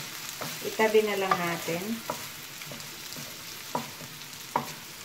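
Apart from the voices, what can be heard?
carrots sizzling while stir frying in a pan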